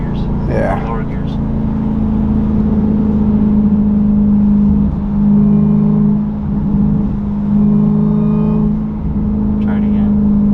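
A 2023 Dodge Durango Hellcat with a muffler delete, its engine holding a loud, deep droning hum close by that swells slightly a couple of times as the throttle is blipped, with people talking over it.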